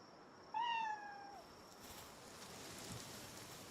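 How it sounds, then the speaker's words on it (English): A single clear cat meow from the video game Palworld rings out over a faint rushing background, followed by a soft wind-like wash of noise. "why did I hear a meow?"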